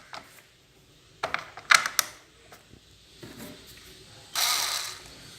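Small screws being fitted into the plastic casing of a 20-LED rechargeable light, giving scattered clicks, creaks and rattles, sharp taps near the middle and a brief louder scraping burst near the end.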